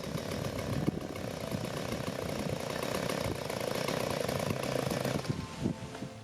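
A Stihl chainsaw engine idling steadily after a bog-down fix, a continuous close, even rumbling putter that holds without revving for several seconds, with no voices.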